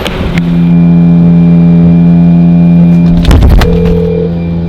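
A car engine starts and runs steadily with a loud, close hum, then revs briefly before settling back to a steady drone.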